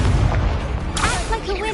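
A fire spell going off in Hogwarts Legacy, a booming burst with crackling flame, loud and close, followed by rising whooshing tones as the blast fades.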